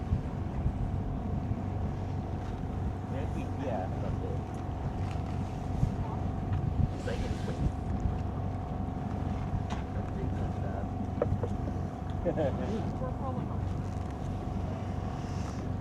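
A motorboat engine drones steadily with wind buffeting on open water near Nanaimo among the Gulf Islands, loud and continuous throughout, with voices faintly mixed into the noise.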